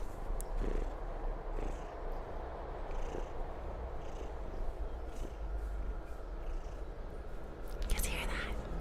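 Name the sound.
cat purring close to the microphone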